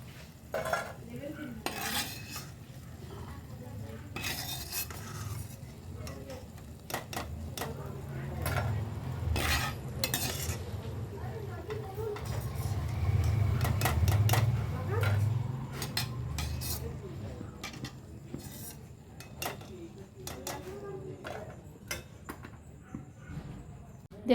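Crunchy fried rice kurkure snack stirred in a pan, giving repeated sharp scraping and clattering strokes at close range, with a soft frying hiss in the middle stretch and occasional speech.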